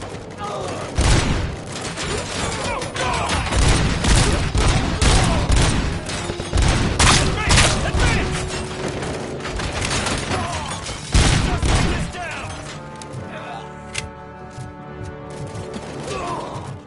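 Heavy sustained gunfire in RoboCop: Rogue City, dense bursts and loud blasts in a close firefight, with voices shouting over it before the noise drops to quieter mechanical sounds near the end.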